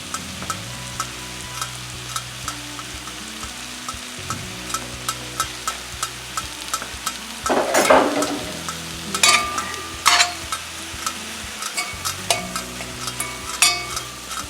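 Beef steak sizzles in butter in a pan over lowered heat, a steady crackling fry with occasional stirring and a few louder pan scrapes, without talk.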